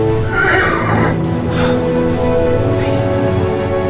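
An animated horse whinnies loudly and close, the neigh rising and wavering over steady clip-clopping hooves, with no voices.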